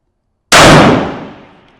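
A single rifle shot fired at a tall target cracks sharply and very loud after a moment of silence, then decays in a broad echoing tail over about a second.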